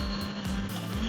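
Honda CBR650R motorcycle with E-Clutch downshifting smoothly from speed, engine drone stepping down in pitch several times as gears drop, steady and close with constant wind noise.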